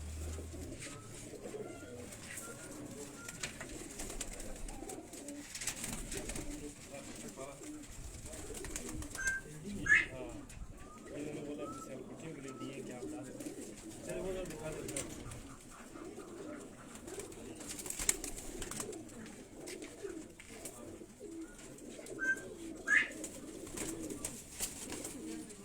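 Pigeons at a house coo repeatedly in soft, low throaty bursts, fairly close, while someone talks over them now and then.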